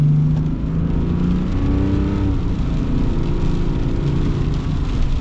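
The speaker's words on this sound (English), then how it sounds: "let's get our acceleration here with the Duramax" A 2023 Chevy Silverado 1500 Duramax diesel pickup accelerating, heard as a steady low engine drone with road and wind roar, close and continuous throughout.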